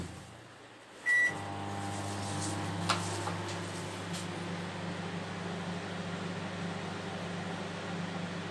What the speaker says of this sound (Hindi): 20 मिनट स्टार्ट करना है माइक्रोवेव पे।